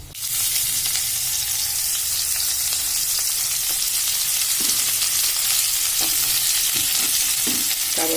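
Fennel seeds frying in hot cooking oil for a crab curry give a steady, loud sizzle with a dense crackle running throughout, broken near the end by a few clicks of stirring.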